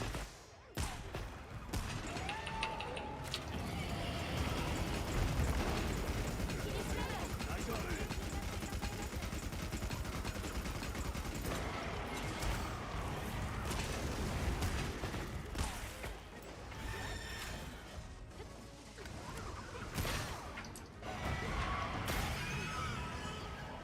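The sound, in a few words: video game explosions and gunfire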